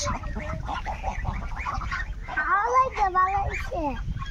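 Domestic geese raised at home let out a string of clear, rising and falling honks close up, growing louder midway, while a person talks softly beneath them.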